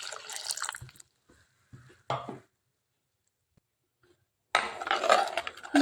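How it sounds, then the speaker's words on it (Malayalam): Short bursts of bubbling, sizzling curry paste come and go in a clay pot, with quiet gaps between them. "അരപ്പ് വേഗം തിളയ്ക്കുന്ന കണ്ടോ"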